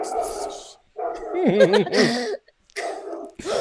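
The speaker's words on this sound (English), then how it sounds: "Dogs in the house. Yeah, I have a German Shepherd" A German Shepherd barks in a house, giving several loud, close, yelping barks in short bursts separated by brief pauses, overlapping with people talking.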